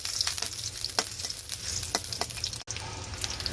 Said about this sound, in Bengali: এখন আমি নেড়ে চেড়ে দিচ্ছি।